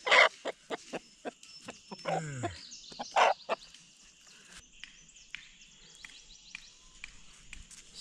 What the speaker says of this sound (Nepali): भाले